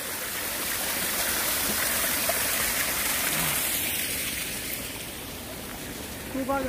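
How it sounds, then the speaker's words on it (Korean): Water rushes down like a waterfall through a rice field, a steady broadband gush close by that eases slightly toward the end, with no clear talk over it. "이거 폭포수가 돼버렸네."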